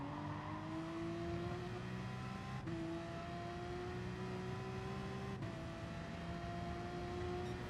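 A Porsche 911 RSR Gr. 3 race car in Gran Turismo Sport revs hard through the gears, its engine note climbing steadily with two sharp upshifts, loud and continuous throughout.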